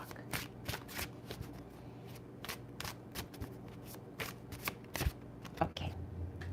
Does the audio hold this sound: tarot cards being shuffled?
yes